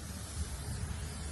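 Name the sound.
spraying cooking oil onto a grill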